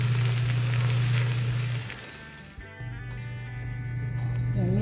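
Chicharon bulaklak, pork mesentery, frying in hot oil, a steady loud sizzle and crackle close up that briefly dips midway, then resumes.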